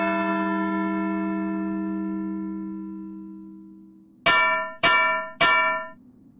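A church bell in the Edna bricht aus game: one long ringing tone fades slowly, then three sharp, loud strikes follow at an even pace, each ringing briefly.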